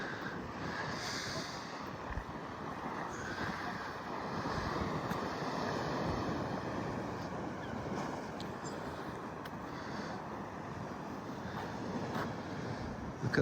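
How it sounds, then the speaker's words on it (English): Sea swell rolling against the harbour wall at Bridlington, a continuous rushing wash of surf with heavy wind buffeting the microphone throughout. "look at the waves hitting the harbour wall"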